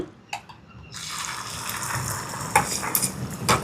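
An egg fries in sesame oil in a pan, starting with a quiet moment and then giving off a steady, close crackling sizzle with a few sharper pops.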